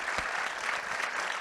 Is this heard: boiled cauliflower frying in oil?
no